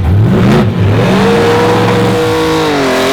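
A street car from a drag racing event launches and accelerates hard down the track, its engine loud and close with a rising, shifting roar that fills the whole moment.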